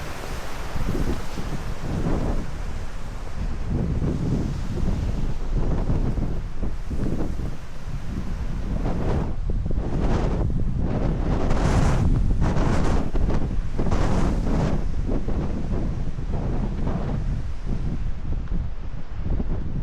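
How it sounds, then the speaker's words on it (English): Strong wind buffets the microphone while waves wash against the rocky shore of Lake Superior on a sunny day, a loud, steady roar with repeated surges of surf and no voices. "And here it is on a beautiful, sunny, windy day on Lake Superior."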